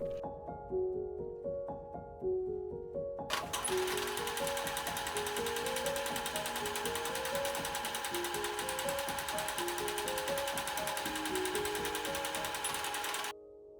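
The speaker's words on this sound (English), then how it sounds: "Sew them together at the waistline with right sides together." A sewing machine stitches a hanbok waistline seam, a fast steady mechanical whirring hum running continuously for about ten seconds under background music, then stopping abruptly.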